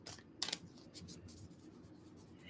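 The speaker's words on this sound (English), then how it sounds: "I'm just going to shuffle real quick because I didn't pull 12 cards." Tarot cards being shuffled by hand, a few quick crisp riffling bursts and soft card rustles, close and quiet.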